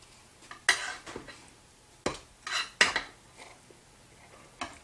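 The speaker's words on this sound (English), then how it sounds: "Now we're just going to pop them out of our pan." Baked cinnamon rolls knocked out of a baking pan, giving a few sharp metallic clanks and thuds spaced irregularly, close and fairly loud with quiet gaps between.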